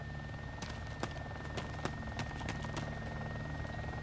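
A helicopter in the video game ARMA 2 drones steadily with rhythmic blade thumps at irregular intervals, a constant rotor hum filling the background at moderate distance.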